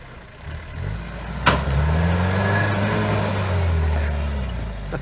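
A 4WD vehicle labours up a steep track, its engine droning close and steady and rising slightly in pitch, with a sharp knock near the start.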